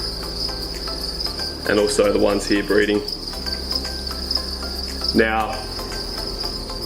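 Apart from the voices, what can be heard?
crickets chirping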